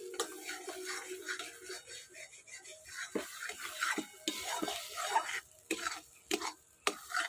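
A spice paste with turmeric is fried and stirred in a pan, giving a soft sizzle under repeated scraping strokes of a spoon against the pan, close and steady with brief pauses between stirs.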